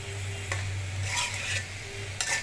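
Spice paste being sautéed with fried cauliflower and potatoes, a close sizzle overlaid with several quick scraping stirs of a spatula against the pan and a low steady hum beneath, with no talking.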